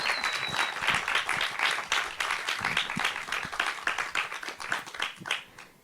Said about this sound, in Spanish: Un aplauso, por favor, para ellos.